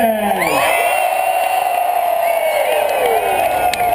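A crowd at pig races cheers and whoops loudly and continuously, with many voices shouting together throughout.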